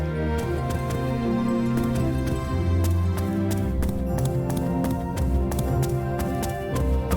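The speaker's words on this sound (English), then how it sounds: "footstep sounds on most of the surfaces, like this wooden floor here" Footsteps on a wooden floor in the game Legaia 2, a steady series of light taps over continuous background music.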